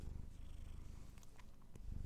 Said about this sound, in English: Go on, do some purring.